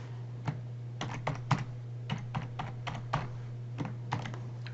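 Keys tapped on a computer keyboard while a password is typed into a cryptocurrency wallet setup, a scattered run of light clicks with short pauses over a steady low hum, no talking.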